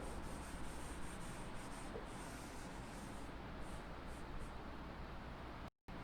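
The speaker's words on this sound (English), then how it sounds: "If I rub the board" Steady broadband rubbing of a duster wiping writing off a classroom board, continuous and fairly close for about six seconds, with a brief dropout near the end and no talk over it.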